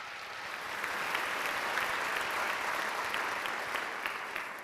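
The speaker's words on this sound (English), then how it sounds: "Let's give them another round of applause for their thanks." Audience at a school district ceremony honouring teachers of the year applauds steadily, a dense wash of clapping from a fairly distant crowd that swells and holds for several seconds without talk.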